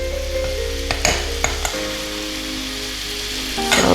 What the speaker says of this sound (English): So you wait for your butter to melt